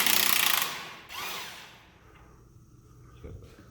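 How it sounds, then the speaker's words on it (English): Power drill boring out a part on a 2018 Can-Am Maverick X3 XRC side-by-side during a trailing arm guard install, a loud close whine that stops after about a second and briefly resumes. "We just got to drill this out"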